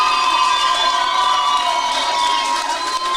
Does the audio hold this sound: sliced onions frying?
no